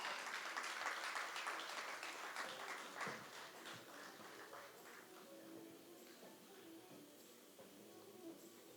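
A crowd claps loudly at first, the applause gradually thinning and fading over several seconds into scattered claps and quiet room noise.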